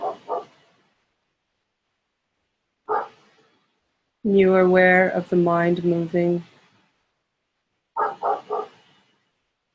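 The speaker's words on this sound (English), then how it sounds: "and the dogs barking." A dog barks in short bursts separated by silence, with someone speaking calmly in between.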